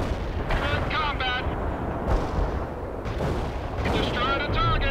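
Artillery fire booms and rumbles across a battlefield in the video game World in Conflict, with dense, continuous blasts and voices talking over the barrage.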